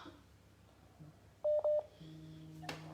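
Short electronic telephone keypad dialing tones, two steady beeps in quick succession, clear and fairly loud against a quiet background, followed by a low hum.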